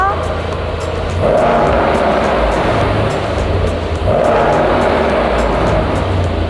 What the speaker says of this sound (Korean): 이 차량 배기음 들어볼게요.